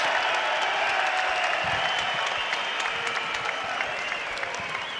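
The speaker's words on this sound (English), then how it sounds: "let's have a big round of applause for these two welterweight warriors" A crowd at a bare-knuckle fighting event applauds for two welterweight fighters after a five-round bout, with dense, sustained clapping that fills the arena evenly and stays loud.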